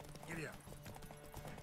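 A horse clip-clops under the player character in The Witcher 3: Wild Hunt, its hooves steady and fairly close, while a person talks over the running hoofbeats.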